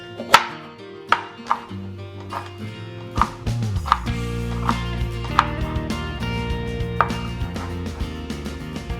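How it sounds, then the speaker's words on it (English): A knife chops vegetables, red bell pepper among them, on a cutting board in a home kitchen while oxtail and butter beans are being made. Sharp, evenly spaced knocks ring out close by over steady musical tones. "Now let's start by chopping up our vegetables, and I'm only going to use half of this red bell pepper."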